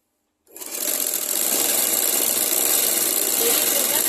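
A sewing machine stitches a petticoat, starting abruptly after a short silence and then running as a steady, fast, continuous mechanical whir close by for the rest of the clip.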